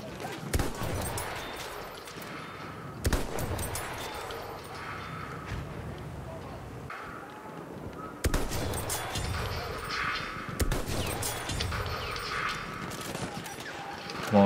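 Gunfire in the shooter game Battlefield: near-continuous rattling volleys and bursts at moderate level, with sharp breaks where the firing restarts, with no talk over it.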